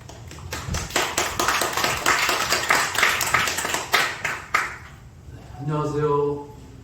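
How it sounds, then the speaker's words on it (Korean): A seminar audience at a church media mission seminar claps steadily for several seconds, the applause fading out before a voice begins speaking near the end. "박수로 맞아주세요."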